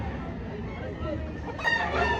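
A fighting rooster at a gamefowl sale in Lipa City crows once near the end, loud and close, over steady background crowd murmur and low rumble.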